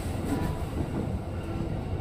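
An electric commuter train (JR E233 series) rumbles along steadily at close range, a low continuous drone with faint rhythmic clatter from the wheels.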